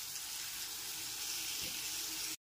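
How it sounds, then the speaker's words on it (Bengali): Onion with ginger-garlic paste frying in a pan for an egg pepper masala, a steady close sizzle with a soft stir-like thump near the end. "আদা রসুন বাটাটাও পেঁয়াজের সাথে ভেজে নিতে হবে।"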